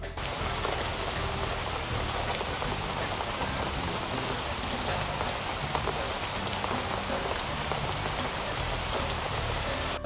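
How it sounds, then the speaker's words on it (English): Steady rain falls on a surface, a dense continuous patter of drops at an even intensity throughout, with no voices. "If I play, you hear only the sound of rain."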